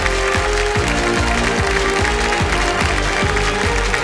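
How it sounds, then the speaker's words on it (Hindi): Studio audience applause on a televised Hindi quiz show (KBC) fills the room, a steady broadband clapping layered over loud rhythmic, beat-driven show music, with no talking. "जोरदार तालियां बज जाए इनके"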